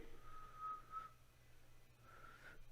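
A person tries to whistle and manages a few faint, thin, wavering notes in short bursts, with some breathy hiss, nearly alone in a quiet room.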